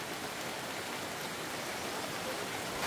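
Heavy rain pours steadily around a remote house in the middle of a forest, a dense, continuous hiss of downpour close by, with no voices heard.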